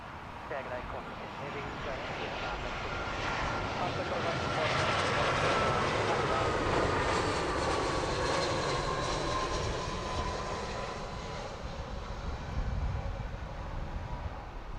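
An airliner touches down at Heathrow Airport, and its broad jet roar swells and holds for several seconds with a faint whine running through it. A person talks over the sound throughout.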